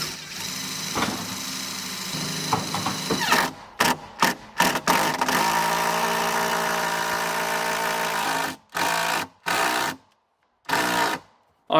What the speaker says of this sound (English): What I have are some structural screws that I am screwing this header into the top of the cabin